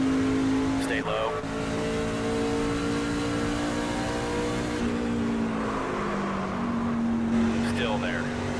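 A racing car engine drones steadily with shifting pitch, a synthetic-sounding motor whine that rises and falls continuously, with occasional brief higher squeals.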